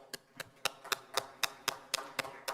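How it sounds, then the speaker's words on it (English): Sparse, evenly spaced claps ring out one after another for panel speakers being welcomed on stage at a business summit, a thin, faint patter rather than a full ovation. "A huge round of applause for all of our speakers"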